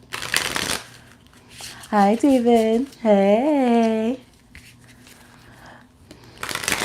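A Dust II Onyx tarot deck is riffled by hand in brief, crisp bursts of papery flutter at the start and end of the stretch, while a voice talks in between.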